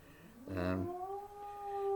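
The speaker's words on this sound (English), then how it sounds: "Don't mind that little noise if you heard that. That was one of my dogs." A sleeping dog dreaming lets out one rising, whining howl that settles into a steady, thin whimper. It is fairly close and stands alone with no talking.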